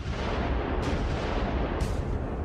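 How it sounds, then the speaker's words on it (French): British 38 cm naval shells fire and land on French ships in harbour, a dense, continuous roar of heavy blasts with two sharper bursts standing out, loud and with no voices. "Les obus britanniques de 38 cm s'abattent sur les navires français."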